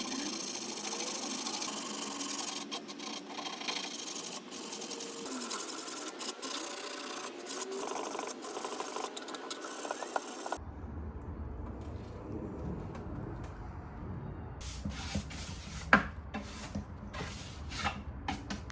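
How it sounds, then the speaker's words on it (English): A small electric hand sander works over a furniture surface during a restoration, a continuous close buzzing rasp with the tone shifting partway through as pressure or position changes. "If you don't have one of these little hand sanders, you are seriously missing out."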